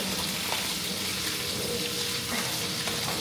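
Steady, loud sizzling of taco filling frying in a pan, a continuous crackling hiss close by with no pauses.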